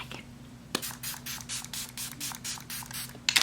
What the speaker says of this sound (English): I went with the Dalba spray to just give my skin that glow back